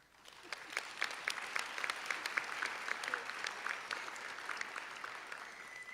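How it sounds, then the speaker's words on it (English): Graduates at a young women's leadership academy graduation ceremony clap together, with a scattered crowd of distinct hand claps heard at a moderate distance that builds quickly and thins toward the end. "give yourselves as a sisterhood a round of applause"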